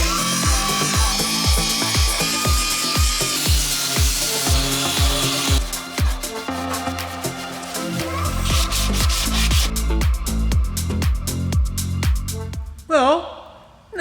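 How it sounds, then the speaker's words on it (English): A belt grinder grinds down welds on a rear axle part of an Opel Kadett GSI, making a loud, rasping rub that surges and eases in repeated passes with a shifting pitch. A brief voice is heard near the end. "Let's get the final stop with the belt grinder down and they should be ready to go."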